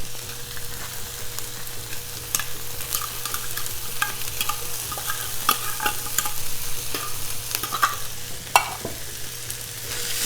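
Canned tuna stirred into onions and garlic in a hot pan, with a steady low sizzle, scattered utensil scrapes and light clinks repeating throughout; no talking.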